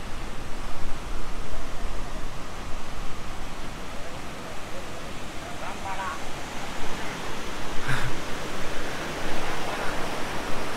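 Rushing river water churns steadily below the Kedarnath trek path, a dense, continuous roar with no pauses; faint voices surface briefly over the flow.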